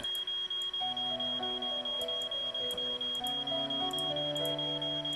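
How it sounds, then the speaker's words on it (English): An electronic alarm goes off in a tower in a Nancy Drew video game, a steady high tone with rapid repeating beeps and shifting warbling tones layered over continuous rhythmic ticking. "Everybody brace yourselves for the alarm."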